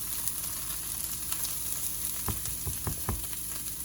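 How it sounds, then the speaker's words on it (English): Fresh corn kernels roasting in a hot pan for a jalapeño popper filling, giving a constant close sizzle with a few soft stirring knocks near the end. "I'm just going to roast this corn a little bit, just to give it some color"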